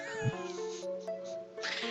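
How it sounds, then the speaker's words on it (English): A cartoonish cat meows in the video game Kitty Love, a drawn-out, tonal call heard up close over a soft background music bed. "I'm also meowing now?"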